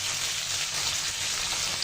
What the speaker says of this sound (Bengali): এক পাশ ভালো করে ভাজা হয়ে গেছে, আর এক পাশ উল্টে দিয়েছি।